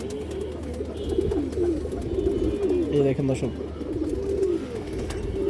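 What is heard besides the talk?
Afshan baga male pigeon cooing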